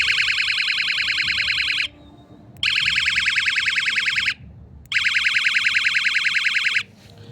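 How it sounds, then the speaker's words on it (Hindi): A loud electronic bicycle horn sounds in three long, steady warbling bursts separated by short gaps, close and alone with no talking. "जो हॉर्न है वो मैं आपको दिखा देता हूँ"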